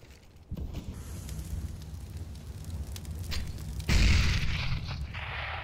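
A grenade goes off in a Counter-Strike match with a sudden loud, close boom that fades into a noisy rumble, over a steady background of gameplay noise.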